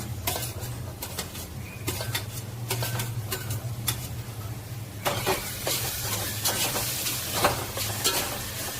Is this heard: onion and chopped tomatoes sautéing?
yes